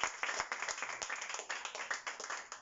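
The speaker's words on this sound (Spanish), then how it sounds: "Dale un aplauso fuerte al Señor." Clapping from a church congregation praising the Lord, a fairly sparse group of hands striking in quick, slightly uneven bursts, close and moderately loud, with no talking over it.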